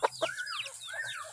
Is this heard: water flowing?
no